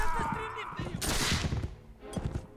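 A single loud gunshot in the video game Mount & Blade: With Fire & Sword, bursting out sharply midway as someone talks before and after it.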